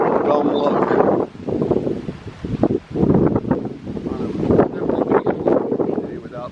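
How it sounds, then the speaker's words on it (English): Breeze buffets an outdoor microphone at a park, low rumbling gusts that swell and drop in bursts, with a person talking through and between the wind noise. "Sorry for the breeze. It's been windy for several days."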